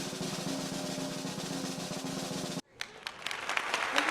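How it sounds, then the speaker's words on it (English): Audience applause at the JTIC24 awards ceremony as the Best Overall Social Innovation award is announced: a dense, sustained round of clapping that cuts off abruptly partway through, followed by quieter room sound and scattered noises. "please join us in a big applause for the other award for Best Overall Social Innovation"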